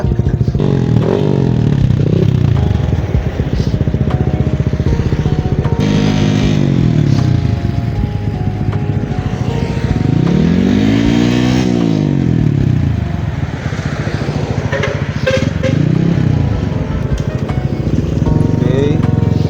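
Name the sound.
63mm 183cc motorcycle engine revving during tuning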